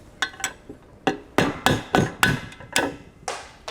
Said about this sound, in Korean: 탈거시킬 때는 좀 강한 힘으로 고무망치를 때려야지 빠집니다